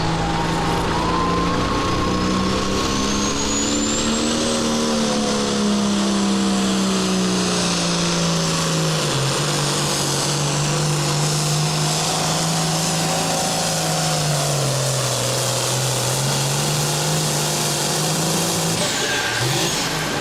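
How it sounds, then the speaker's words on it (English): A Ford 8630 pulling tractor runs down the track at a county fair tractor pull, its engine droning loud and steady throughout with shifting pitch, then a quick throttle blip near the end. "First one down the track, a blip of the throttle right at the end."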